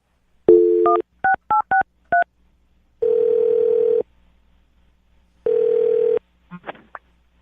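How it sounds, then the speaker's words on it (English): A telephone number is dialed on a phone line: several short, evenly spaced touch-tone beeps ring out clearly, followed by two longer steady dial or ringback tones, and a faint click ends the sequence. "I'm going to dial his phone number right now, get him on the phone"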